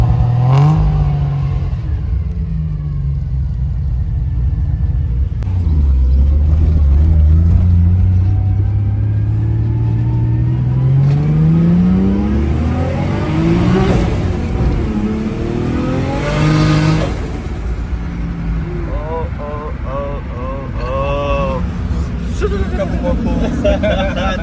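A car on the road, driven by an enthusiast out for a spin in the rain, rises through the revs and shifts in a loud, sustained run of engine drone and acceleration, heard from inside or close by while people talk over it.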